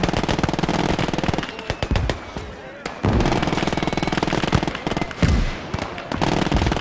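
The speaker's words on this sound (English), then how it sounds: "Enemy artillery." Gunfire and explosions in a WWII battle game rattle in rapid bursts like machine-gun fire, loud and dense with sharp cracks and brief lulls.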